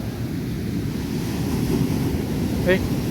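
Low, steady rumble of surf washing ashore with gusty wind across the microphone, a constant roar with no pauses.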